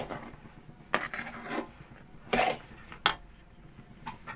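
Coarsely ground flax seeds and wheat stirred together in a pot, giving a few scattered scraping clatters and soft rubbing sounds spread over a few seconds, close and fairly quiet.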